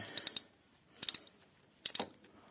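Oil drain plug being loosened with a ratchet on a KYMCO Maxxer scooter during an engine oil change: three short bursts of quick metallic clicks, close and fairly quiet, separated by brief pauses.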